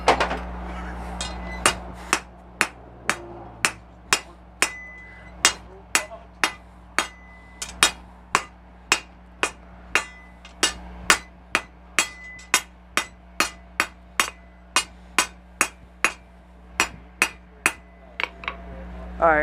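Steady hammer blows on hot rebar being bent into a roughly one-inch circular hook, a long run of sharp ringing metallic strikes at a regular pace, close and loud, with little else but a faint hum.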